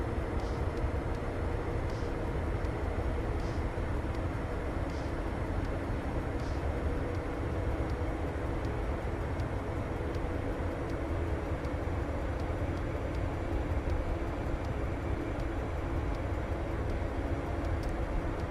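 Embraer Phenom 300e business jet taxiing in Microsoft Flight Simulator 2024, a steady, loud engine whine and rumble that holds evenly throughout with no voices.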